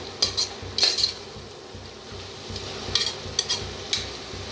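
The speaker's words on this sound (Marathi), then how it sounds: "ह्याच्यातच घालूयात टमाटो बी आणि भाजून घेऊया जरा" Tomatoes roasting in a pan for masala rice, stirred with a metal spoon that clinks and scrapes in short bursts over a low, steady sizzle.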